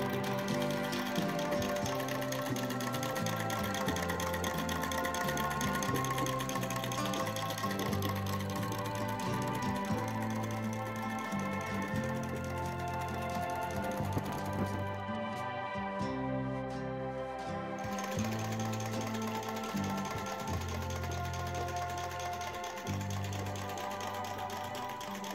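A 1906 Singer 31-20 industrial sewing machine on a treadle base stitches steadily, its rapid mechanical chatter and rhythmic thumping continuing close and loud throughout, with one brief slowdown midway and no talk.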